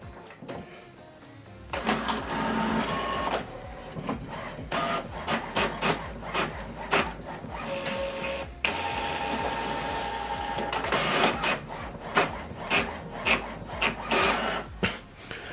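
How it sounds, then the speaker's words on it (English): An HP Officejet printer prints a document, its mechanism whirring and clacking in rhythmic bursts with steady motor drones and paper feed rasps, close and fairly loud across the whole stretch. "Now this document is printing."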